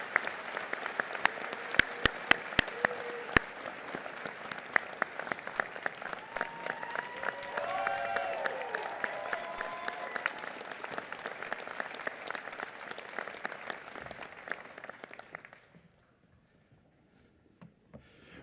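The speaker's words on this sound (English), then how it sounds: "How about a round of applause for our faculty members and our administrators?" Sustained applause from a seated audience at a School of Medicine & Health Sciences degree ceremony, honouring faculty and administrators; dense steady clapping with a few sharp claps near the start, continuing about fifteen seconds before cutting off to near silence.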